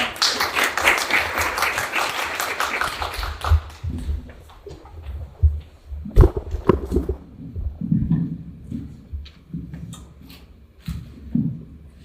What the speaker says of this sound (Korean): 현장 박수로 모시겠습니다.